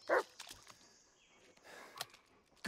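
A dog barks in the horror video game Blair Witch, one sharp close bark at the start, then quieter yips and snuffles, with another bark near the end over a hushed game ambience.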